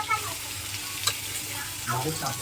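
Cabbage stir-fried in a pan, a soft continuous sizzle with scraping stirs and a sharp clink of utensil against the pan partway through.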